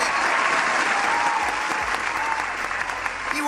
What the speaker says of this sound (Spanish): Fuerte el aplauso, por favor, para Rosy Anderek.